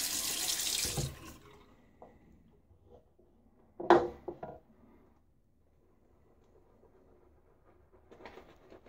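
Tap water runs briefly during a wet shave with a GEM Micromatic safety razor, a short burst of splashing near the start followed by another quick splash about halfway through, then quiet handling sounds.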